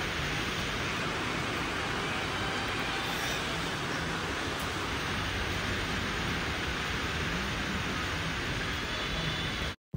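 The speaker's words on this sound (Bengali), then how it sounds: "বৃষ্টির শব্দ শোনা যাচ্ছে, কি পরিমাণে বৃষ্টি পড়তেছে।" Heavy rain pouring steadily in Sydney, a dense, unbroken hiss of falling water lasting throughout before cutting off abruptly at the end.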